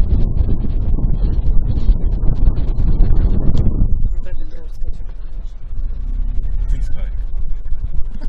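Steady broadband wind rumble buffets the microphone throughout on the Arabat Spit near Shchastlyvtseve, with indistinct voices and movement underneath.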